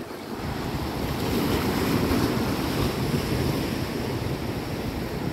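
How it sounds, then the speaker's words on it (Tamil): Ocean surf washes steadily onto the shore, a broad continuous roar of breaking waves mixed with wind buffeting the microphone, loud and close with no voices. "இந்த அலையில் இந்த அலை எழும்புது இல்லையா இங்கே எழும்புது இல்லையா"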